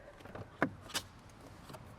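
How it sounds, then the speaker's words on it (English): Doors of a Volkswagen Golf GTI Mk8 Sepang Edition being opened, giving two short clicks of the latch about a third of a second apart, close by, with quiet cabin hum around them. "So let's open up the doors."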